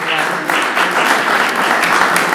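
Audience applause at a closing celebration, a dense steady wash of many hands clapping with murmured voices mixed in, fairly loud and continuous.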